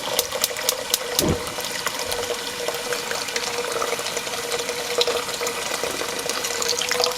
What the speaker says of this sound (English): I'm going to go ahead and pour some warm water.